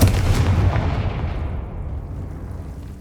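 A Confringo fire spell explodes in the Hogwarts Legacy video game, with a loud booming blast that fades into a long rumbling decay, and no talk.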